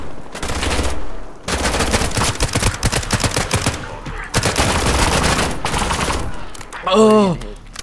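Rapid bursts of gunfire in the video game SCP:5K crackle loudly in sustained volleys with short pauses, ending in a sharper burst with a ringing tail.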